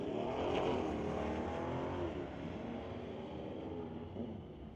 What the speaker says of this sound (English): Corvette's away.